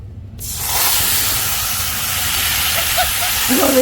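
Steady loud hiss of spices and mustard frying in very hot oil in a wok, a continuous bright sizzle that rises after a brief quiet start and holds to the end.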